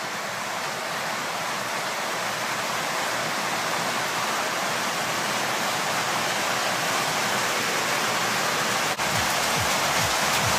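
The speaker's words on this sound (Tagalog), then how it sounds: "malakas ang ulan dito ngayon sa amin" Dense, continuous roar of heavy rain, a steady wash of noise with no pauses, loud and close throughout.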